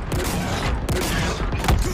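Rapid bursts of gunfire from Halo Infinite crackle in dense, overlapping volleys with a few sharp cracks, loud and continuous throughout the short stretch, without voices.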